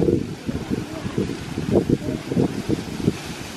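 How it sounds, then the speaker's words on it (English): Gusty wind on a windy December day buffets the microphone outdoors, with low rumbling puffs and leaves rustling across the ground in a steady, moderately loud wash. "It's a windy December day."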